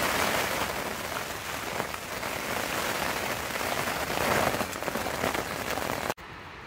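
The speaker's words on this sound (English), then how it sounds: "You can probably hear that's the rain on now." Steady rain drums on a tent during a wild camp in wet, windy Galloway Forest Park, a dense close hiss of drops on fabric that runs unbroken before cutting away abruptly near the end.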